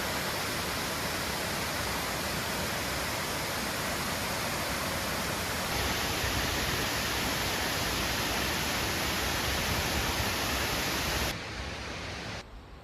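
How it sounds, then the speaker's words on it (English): A large waterfall in upstate New York roars as a steady, loud, broadband rush of falling water, unbroken and close, dropping off slightly near the end. "No hiking required to see these beautiful falls."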